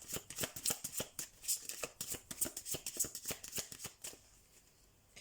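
Tarot cards shuffled by hand in quick, irregular riffling bursts of crisp papery slaps, close and fairly soft, trailing off into near quiet at the end.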